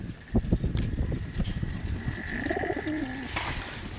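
A pigeon coos softly a few times amid faint background noise and scattered rustling.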